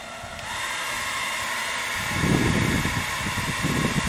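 A hair dryer runs off a LiFePO4 portable solar power station (1100 W max, 1500 W surge), giving a steady close-up blowing hiss that grows louder and rougher about halfway through, as if switched to high heat.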